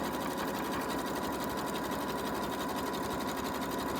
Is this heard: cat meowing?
no